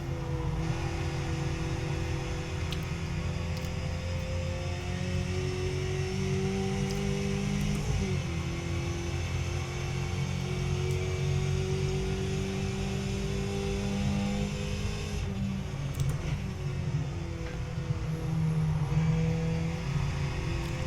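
Race car engine in the iRacing sim at Watkins Glen, a steady loud engine drone with rising and falling revs through gear shifts, continuous for about twenty seconds with no talking.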